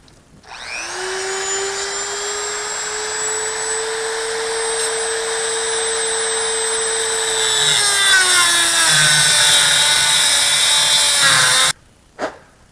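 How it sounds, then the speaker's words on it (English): Dremel rotary tool cutting off the end of a screw on a home-built airplane dashboard: a steady, loud high-pitched whine that drops in pitch as the cut bites, then stops abruptly, followed by a short click. "I gotta cut the end of this off with the Dremel tool."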